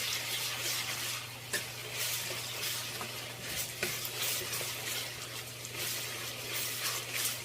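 Chicken being mixed with ginger garlic paste in a pan, a soft continuous sizzle with scattered scrapes and stirring taps, steady and moderately quiet under a low constant hum.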